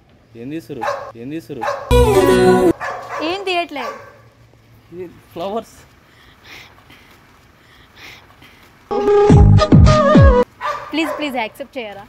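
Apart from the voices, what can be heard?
dog barking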